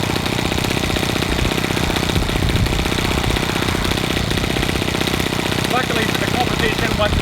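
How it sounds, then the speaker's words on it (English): A small UAV engine, freshly back from service and not yet tuned, is run up, giving a steady, loud, continuous drone that holds throughout, with people talking over it. "So we've just got these engines back from service, so we haven't had a chance to tune the motor."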